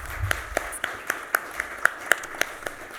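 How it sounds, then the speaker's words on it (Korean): Korean church congregation at Sunday worship clapping in a steady, slightly sparse rhythm of about ten distinct claps, moderately close, with faint background voices. "우리 다시 한번 힘찬 박수로 하나님께 영광을 올리죠."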